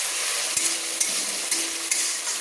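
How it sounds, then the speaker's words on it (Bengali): Tomato cooked down in hot oil for chicken do pyaza gives a constant, close sizzle, with a few light spoon knocks against the pan as it is stirred. "দিয়ে ভালো করে একটু তেলের মধ্যে আমি কষিয়ে নিচ্ছি"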